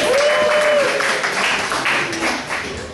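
An audience at a comedy club applauds the MC, with dense, steady clapping and a rising cheer or whistle near the start that gradually thins out over three seconds.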